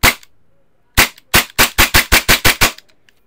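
Gas blowback H&K MP7 airsoft gun fitted with an Angry Gun silencer and 600 FPS upgrades, one sharp shot, then after a pause a quick run of about eight sharp cracks, loud and close.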